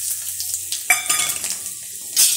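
Dry chillies, panch phoron and turmeric frying in hot mustard oil in a kadai, a close, crackling sizzle with spattering pops and brief stirring scrapes over about two seconds.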